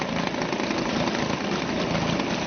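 A small Suzuki DT2 two-stroke outboard motor idles steadily nearby, a dense, even running hum with no changes in pace and no voices.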